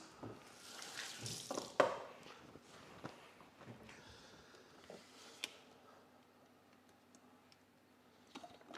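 A kitchen tap runs in short bursts while hands are washed at the sink, a faint hiss of water with light clinks and movement around it, fairly quiet.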